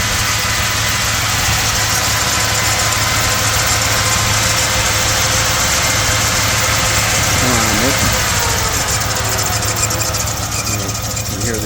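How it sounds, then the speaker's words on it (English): A 1954 Chrysler New Yorker Deluxe engine idles with a steady low rumble, mixed with loud fan noise and a faint belt squeak, recorded close for several seconds. "You can hear the engine a little better now."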